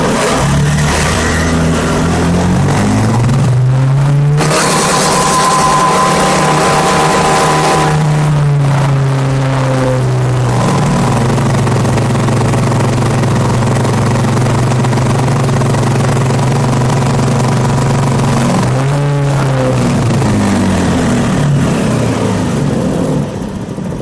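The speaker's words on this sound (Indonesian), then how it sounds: "Kita coba untuk throttle pada posisi penuh, kita baca nanti putaran mesinnya menjadi berapa." A motorcycle engine is held at full throttle during a workshop fault test, a loud steady drone with rising and falling pitch sweeps near the start, middle and end, recorded close with no talk.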